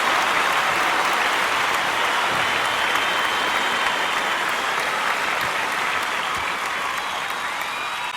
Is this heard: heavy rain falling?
no